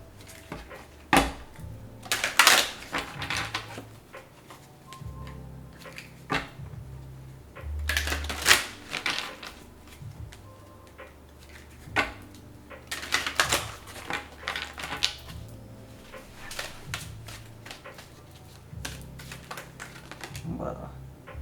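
Tarot cards are shuffled by hand in a series of soft riffling, slapping bursts spread across the stretch, with a voice talking intermittently between them, close and fairly quiet.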